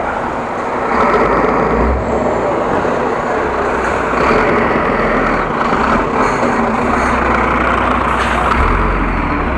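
A truck's heavy engine runs steadily on a busy street in central Groningen, with a dense, continuous rumble, brief hissing bursts like air brakes, and general traffic noise around it.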